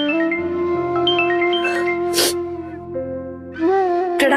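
A phone rings loudly with a melodic electronic tune of sustained tones, pauses briefly, then starts again with a brighter burst near the end.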